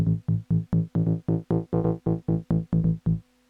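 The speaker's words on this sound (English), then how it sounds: "I will start to add a bass line from the Volca bass" A punchy Korg Volca Bass synth line plays a steady run of short, evenly spaced low notes with sharp attacks, alone and fairly loud.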